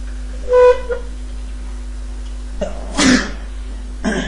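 A single sharp sneeze bursts out close up, loud and brief, standing alone between quieter moments, with a short preceding breath and a faint low hum underneath.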